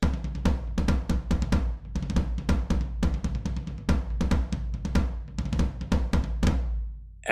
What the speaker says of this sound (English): First up is the Q drum floor tom, which sounds like this.